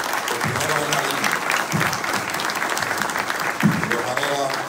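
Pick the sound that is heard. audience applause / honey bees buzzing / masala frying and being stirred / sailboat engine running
audience applause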